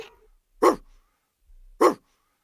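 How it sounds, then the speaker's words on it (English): Two short, sharp dog barks sound close and loud, spaced about a second apart, alone with no other noise. "D for dog."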